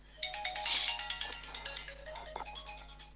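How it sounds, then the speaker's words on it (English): Mobile phone ringtone playing a bright repeating melodic pattern, heard at moderate volume over a faint steady hum, with no speech. "that's my phone is ringing"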